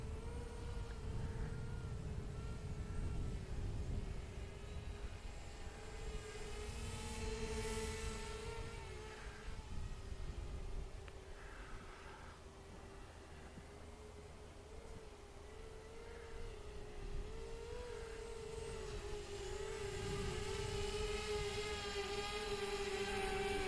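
XK X450 drone flying outdoors in wind, a steady whirring rotor drone that rises and falls slightly in pitch as the throttle changes, fairly faint and continuous with wind noise.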